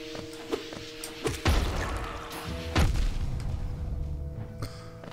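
Enemy blowing up in the video game Hollow Knight: a heavy thud and crash at about 1.5 seconds and another booming hit near 2.8 seconds, each trailing off over steady game music and smaller impacts.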